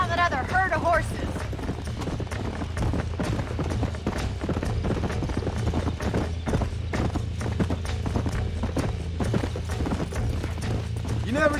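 Horse hooves clip-clop steadily in Red Dead Redemption while a herd is tracked, with a brief whinny early on and game dialogue talking over the rhythmic, close hoofbeats throughout.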